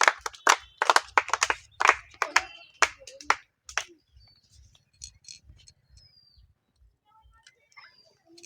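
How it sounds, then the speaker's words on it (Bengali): A handful of people clap in a short burst at a balloon-dart prize game, sharp close claps that thin out after a few seconds into quieter, scattered sounds. "সকলে জোরে একবার হাততালি"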